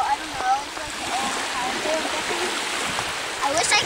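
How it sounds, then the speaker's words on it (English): Small waves lap and wash steadily against the shore at Sayers Dam, a continuous near rush of moving water with brief splashy swells and faint voices in the background. "These little waves."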